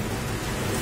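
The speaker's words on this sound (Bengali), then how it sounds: "আর প্রচুর মেঘ ডাকছে" Heavy rain pours steadily during a storm under dark clouds, a dense continuous wash of drops with a low rumble of thunder running beneath it, loud and close throughout the short stretch.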